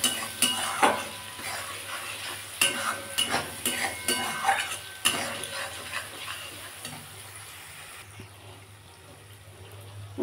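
Cauliflower mash with turmeric and chili powder sautéed in a pan, giving a soft sizzle broken by repeated spoon scrapes and clinks against the metal, close up and fairly quiet, fading to a low hiss near the end.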